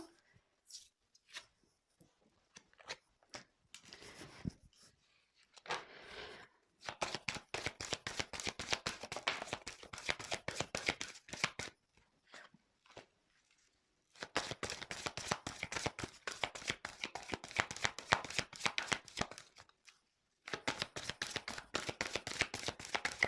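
Tarot cards being picked up and handled, with bursts of crisp shuffling and flicking in rapid rhythmic runs separated by short pauses, close and clear.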